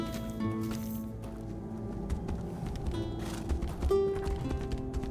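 Horse hooves in the fantasy video game Tainted Grail: The Fall of Avalon, a quick run of clip-clop footfalls mixed with game music and ambience, fairly quiet, with a sharper thud near the end.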